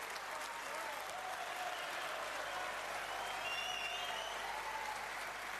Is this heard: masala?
no